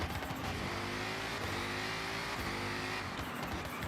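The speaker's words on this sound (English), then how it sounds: "This is the 1987 Ford Sierra Cosworth." Inside a video game, the engine of a 1987 Ford Sierra Cosworth revs hard and continuously, its pitch climbing and shifting through the gears, loud and alone with no one talking.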